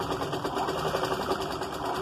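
A sewing machine stitches hanging tassels onto the back of a dress, a fast steady mechanical whirr with rapid needle ticking, close and continuous, with no talk.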